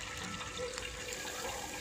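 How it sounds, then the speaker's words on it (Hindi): Godrej 6.2 kg fully automatic top-load washing machine drawing in water on its second cycle, a soft, steady hiss and trickle heard faintly at a distance. "सेकेंड साइकिल में भी पानी लेने लगा"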